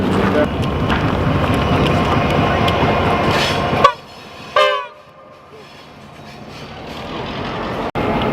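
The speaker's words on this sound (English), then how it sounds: "So here comes the train, look." A tourist railway train arrives on the Mornington line with a steady rumble of wheels and wind noise, then a loud horn blast and a short tonal hoot, before the roar drops away to quieter ambience.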